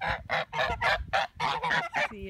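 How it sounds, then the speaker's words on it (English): A run of loud goose honks nearby, about eight calls in a steady, almost rhythmic pattern. "They quack in like a rhythm."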